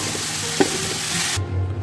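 Carrots and raisins fry in hot oil in a pan, giving a continuous loud sizzle with a brief scrape partway through before the frying cuts off abruptly.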